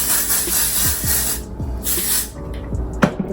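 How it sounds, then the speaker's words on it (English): Several short bursts of hair texturizing spray hiss close by, with small handling knocks and rustles between them. "I usually just spray a little bit more"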